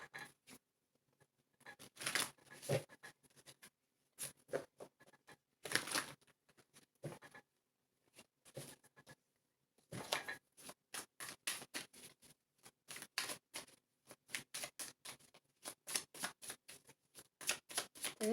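Tarot cards shuffled and drawn by hand at close range, crisp riffles and flicks in irregular bursts separated by short pauses, quiet and alone without speech.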